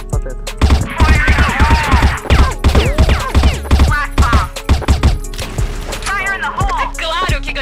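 Rapid gunfire in a tactical shooter video game around a bomb site crackles in dense bursts, loud and close, with occasional shouted voices layered over the shots.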